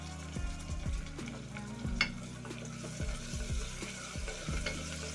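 Chopped tomato frying with onions in a pan, a steady sizzle broken by repeated scraping stirs.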